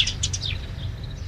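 Birds land on a roof and chirp. A quick run of bright, high chirps comes close together at the start, then thins into fainter calls over a low background hum.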